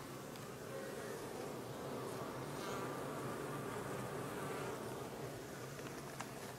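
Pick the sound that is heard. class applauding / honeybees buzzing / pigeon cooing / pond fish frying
honeybees buzzing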